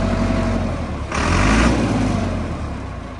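Massey Ferguson MF385 tractor engine idling with a steady low diesel rumble, swelling slightly louder just after the first second before settling back, heard up close with no talking.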